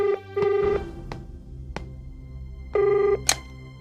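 An old-style telephone bell rings in two sharp bursts separated by a pause, loud and close in a quiet room, with a few soft knocks and clicks between the rings.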